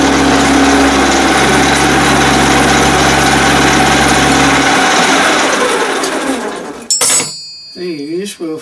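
A milling machine cuts the ends of small parts for a Gauge 1 live steam model, a loud steady machining drone that winds down near the end before a clatter and brief voice.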